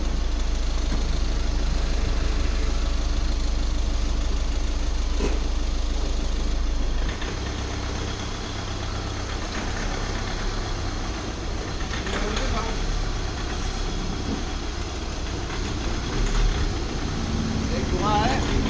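A car engine idles with a steady low rumble, loud at first and then dropping slightly as a gear is engaged, while someone speaks over it throughout.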